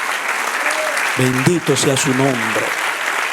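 Applause from a Spanish-speaking church congregation keeps a steady wash throughout while someone speaks over it partway through.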